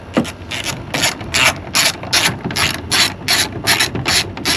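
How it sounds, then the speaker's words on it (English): A ratchet fitted with a 10mm socket removes the tail light screws on a fourth-generation Toyota Tacoma, giving about a dozen quick, evenly spaced ratcheting clicks, close and crisp. "What you need is a 10mm socket. We're gonna go ahead and take the two screws off."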